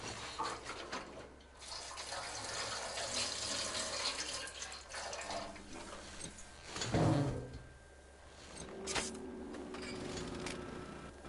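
Liquid pours into a container in the video game Metro Exodus while refueling with petrol, a soft gurgling trickle with clunks and a louder splash partway through, fairly quiet.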